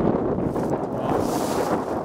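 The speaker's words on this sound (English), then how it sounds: "It's kind of windy out here." Strong wind blows outdoors across the microphone, a continuous loud rushing roar with no pauses and no talk.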